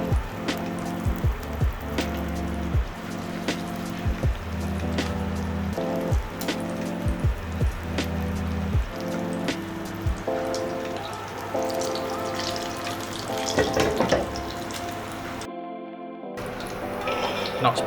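Lasagna pieces frying in hot oil, a steady crackling sizzle with rapid popping spatters throughout, repeated clacks of handling along the way and a brief cut near the end.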